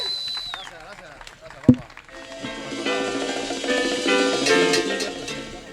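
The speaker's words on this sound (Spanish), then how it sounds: "vamos a recibir con un fuerte aplauso acá a J." Applause and cheering from a live audience welcoming a performer at a Panamanian jazz show, rising after a loud thump and building into sustained crowd noise with some voices and music mixed in.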